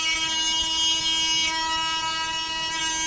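A cordless mini grinder, around 10,000–15,000 RPM, whines steadily, a constant high-pitched tone with strong harmonics that holds without a break.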